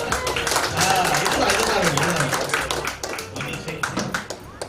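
An audience at a film festival stage event claps. The dense, patchy applause runs under someone speaking Tamil over a loudspeaker and gets a little thinner toward the end.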